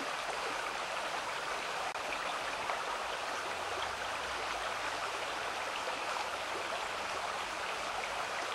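Steady broadband rush of creek water flowing in Davis Creek, an even, continuous wash with no pauses, close by and alone without talk.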